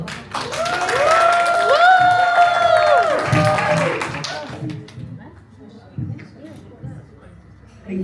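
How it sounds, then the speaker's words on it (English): Audience applause at a women's wellness retreat day, a swell of clapping and cheering voices lasting a few seconds before tapering into scattered claps and talking. "Please welcome and clap for her."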